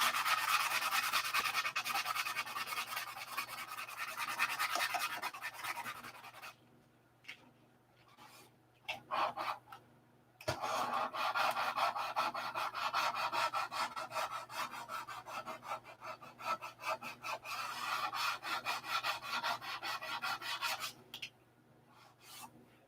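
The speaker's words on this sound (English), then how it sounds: "So far today, I'll put in 5 hours sanding." Steady rasping rub of hand sanding, continuous strokes close by with a couple of short pauses, no talking.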